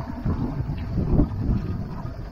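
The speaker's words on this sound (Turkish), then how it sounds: "Meltem başladı. Güzel güzel esiyor." Meltem wind gusts across a sailboat in a Gökova bay, a loud, close, buffeting low rumble of wind against the microphone, rising and falling with no talk.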